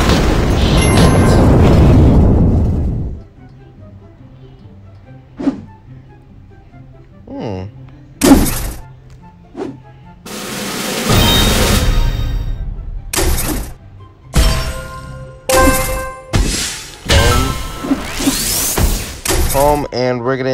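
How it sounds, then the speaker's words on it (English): Fireworks in the mobile game Jetpack Joyride: a long booming blast, then a rapid string of sharp bursts, pops and crackles at irregular intervals, loud and close, with quieter gaps between. "Some damn fireworks."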